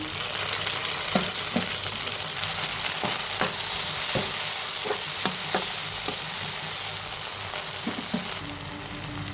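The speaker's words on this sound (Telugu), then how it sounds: "కొంచెం బ్రౌన్ కలర్లోకి మారినాయి కదా, ఇప్పుడు టమాటాలు వేసేసుకున్నాం." Sliced tomatoes added to browned chicken frying in a pan, a steady close sizzle with scattered scraping and stirring knocks from a spoon through the whole stretch.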